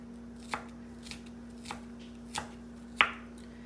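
A knife finely chops garlic on a board for a garlic and honey syrup, making five evenly spaced sharp chops against a quiet background hum. The last chop is the loudest.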